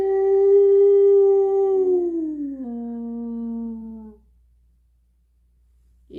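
A person imitates a wolf howl, a single sustained voiced cry that holds a steady pitch, slides downward, then settles lower before cutting off, loud and alone, followed by near silence.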